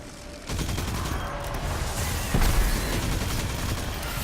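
A submachine gun fires in Destiny 2 Crucible play: after a short quiet start, rapid sustained automatic fire rattles loudly and continuously, with a heavier burst midway through and no talk over it.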